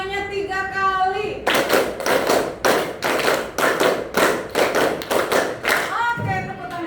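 Classroom students clap a long rhythmic pattern of many loud, evenly spaced hand claps, preceded and followed by a teacher talking.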